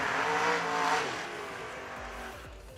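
Door cars race at a drag racing shootout, a loud engine roar that swells early and then fades into a lower, steady drone as the cars pull away.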